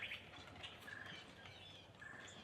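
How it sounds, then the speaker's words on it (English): Birds chirping outdoors in the morning, with a few short, thin calls rising over a faint background hum from the surroundings. "I'm trying to log some birds this morning"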